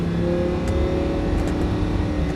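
Lamborghini Huracan 610-4 V10 driving on a race circuit, engine holding a steady loud drone with throttle gradually opening, continuous and close throughout.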